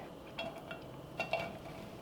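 Drained, wrung-out soy curls dropped into a preheated pan with no oil, giving a few soft clinks and light knocks against the pan over a quiet room background.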